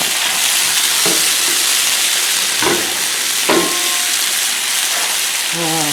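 Potatoes fry in vegetable oil on a hot Blackstone griddle, giving a steady, dense sizzle with a few scraping and clicking sounds of stirring.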